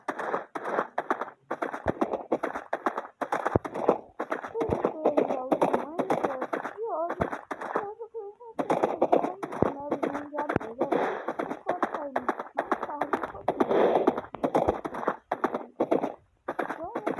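Horse hooves clip-clop steadily while riding a tamed horse in Minecraft, a rhythmic game sound effect running through most of the stretch, with speech talking over it and a brief quieter gap midway.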